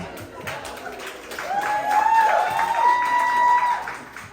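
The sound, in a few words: applause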